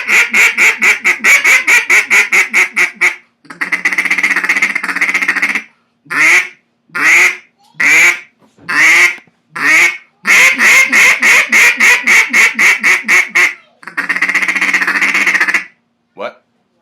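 A handmade duck call blown in a long run of rapid quacking bursts, then several separate loud quacks and another fast series, close and loud with no talking.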